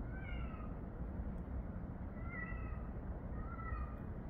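A cat meows several times in short, rising calls, fairly faint, over a low rumbling background.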